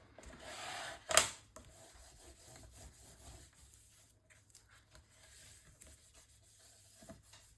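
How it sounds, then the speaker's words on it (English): Paper is burnished down onto the hinges of a handmade mini album, a soft, close rubbing and scraping with one sharp scrape early on, quiet and continuous throughout. "I'm going to just go ahead and burnish this really well"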